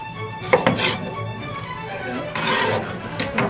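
Knife chopping through an onion on a cutting board, a run of close, uneven blade strikes and scraping, with a few sharper taps and a brief louder burst of cutting near the end.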